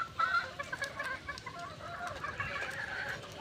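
A female wild junglefowl clucks in short, soft bursts nearby, a string of quick throaty notes repeating over a few seconds.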